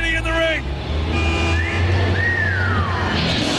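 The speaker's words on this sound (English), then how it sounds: "That was not me whistling" Whistling heard during a WCW Saturday Night wrestling broadcast, short rising and sliding tones over crowd noise and commentary talk.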